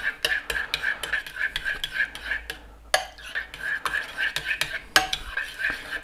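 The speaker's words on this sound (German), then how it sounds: "Beziehungsweise gebe ihn rein und rühren nochmal um." A spoon stirring sugar into a meat salad dressing in a bowl, with quick rhythmic clinks and scrapes against the bowl, close and fairly loud, pausing briefly midway before resuming.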